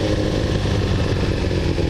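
Kawasaki GPZ900R motorcycle engine running loud and close, a steady rough growl with a rapid pulsing beat that holds at an even level throughout, with no voices.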